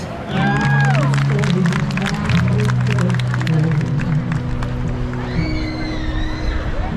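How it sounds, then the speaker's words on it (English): Crowds of people milling about Leicester Square in London, a steady outdoor hubbub of voices and footsteps with occasional nearby talk and passing tones over continuous street background. "There are crowds and crowds of people here in Leicester Square."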